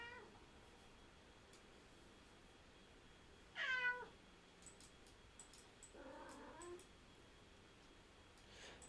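A cat meows twice, a rising-falling cry then a shorter, lower one, moderately close and quiet over faint room hiss, with no talk over it.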